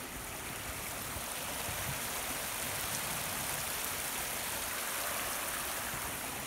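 Steady rushing of Jennings Creek flowing below a footbridge in Buchanan, Virginia, a constant broadband wash of water with no pauses, fairly loud and close.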